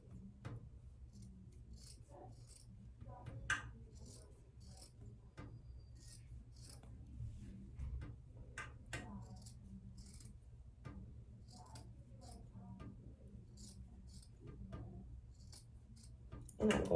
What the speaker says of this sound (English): what you're going to want to do is just cut all the way down